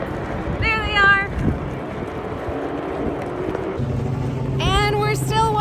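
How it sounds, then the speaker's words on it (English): NASCAR race cars at Sonoma Raceway, heard from a large parking field outside the track: distant engine whines rise and fade in two passing bursts, with wind buffeting the microphone and faint voices in between. "Can you hear the race cars though?"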